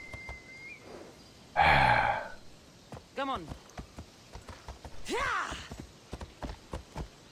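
Horse hooves clopping and splashing through shallow water in Assassin's Creed Odyssey, a burst of splashing, then scattered hoof clops and a whinny-like call, with game music and ambience underneath.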